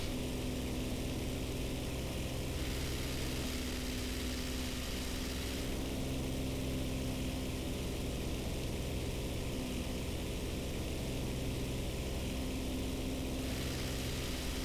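Propeller aircraft engine droning steadily in War Thunder flight, a constant low harmonic hum with a broad rushing wash, unbroken and moderately loud throughout with no talk.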